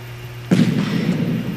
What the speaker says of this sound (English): Oh my god, Timmy, there's a big bomb.